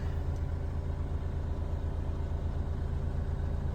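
The 3-liter diesel engine of a 2017 Mitsubishi FE160 cab-over dump truck idles quietly and steadily, a low rumbling hum with an even throb and no other sounds.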